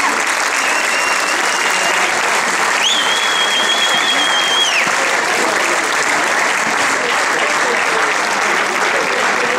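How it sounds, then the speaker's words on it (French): A crowd at a youth football tournament prize-giving gives a long, dense round of applause for the U13 fair play winners from Saint-Léonard, steady clapping throughout with a brief high whistle tone partway. "On peut les applaudir très fort"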